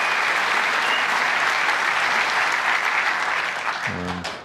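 The Crucible crowd at the World Snooker Championship first round gives sustained applause for Wu Yize's century break, a dense, even clapping that fades near the end as a commentator's voice comes in.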